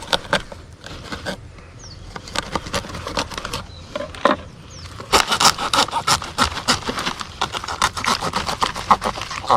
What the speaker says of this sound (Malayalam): അപ്പോൾ നമുക്കിനി തല പയ്യെ കട്ട് ചെയ്ത് കളയാവേ.